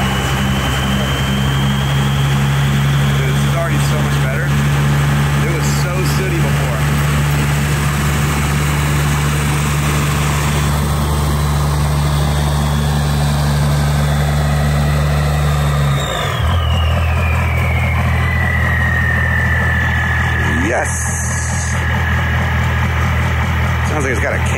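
A Cummins diesel swapped into a squarebody Chevy truck idles with a steady, loud low drone, then the engine note drops abruptly partway through while a person talks over it.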